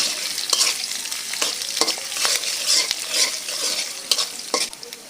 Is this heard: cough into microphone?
no